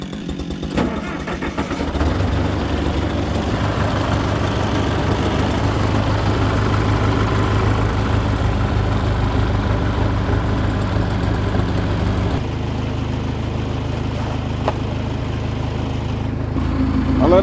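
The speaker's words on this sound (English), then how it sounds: "At the same time, I'll start the bulldozer, warm it up, and then we're ready to go." An old bulldozer engine cranks and catches, then idles steadily and loudly with a deep, continuous rumble for a long stretch while it warms up outdoors on a winter trail.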